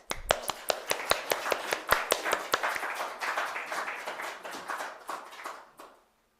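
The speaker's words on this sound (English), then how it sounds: "please give the big round of applause" A congregation at a Sunday church service applauds a woman called to the front, beginning with a few sharp individual claps that swell into a dense, fairly close round of applause before stopping abruptly.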